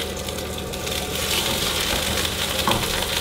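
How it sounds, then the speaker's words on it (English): Oil sizzles loudly as food fries in a pan inside an ice fishing house, a dense, continuous crackling hiss that swells slightly and stays close and steady throughout. "Oh, hello, that's a lot of sizzling."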